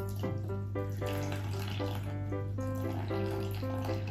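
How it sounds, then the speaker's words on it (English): Water is poured into a play dough mix with a steady, continuous running and splashing sound, close and fairly loud, over a low background hum. "now let's put water"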